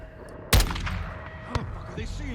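A sniper rifle in Call of Duty Modern Warfare 2 fires a single sharp, loud crack, followed about a second later by a second fainter report, over a low background of game ambience.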